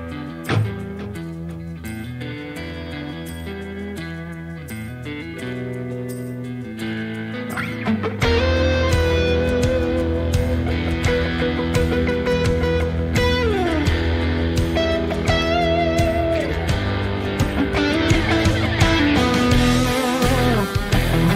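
Electric guitar plays over a blues hard rock backing track, a dense full band mix that swells louder after a quieter opening, with the guitar lines weaving continuously on top and no talking.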